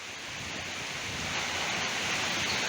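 A strong stormy wind blows as a kite is flown during a rainstorm, a steady, broad roaring rush that builds slightly and buffets the microphone hard throughout, with no voices heard.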